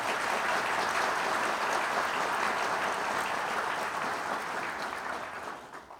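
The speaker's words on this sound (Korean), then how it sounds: "여러분 호응의 박수 한번 해주시기 바랍니다" An audience at Justice Minister Choo Mi-ae's inauguration ceremony applauds in a thick, continuous roar of clapping that holds steady and then fades away at the end.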